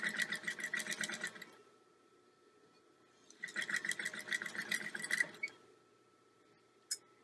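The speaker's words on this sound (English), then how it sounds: "this side of the zipper is a lot easier to sew" A sewing machine stitches an invisible zipper in two close bursts of rapid mechanical whirring, each lasting a second or two, separated by a quiet pause and followed by a single sharp click near the end.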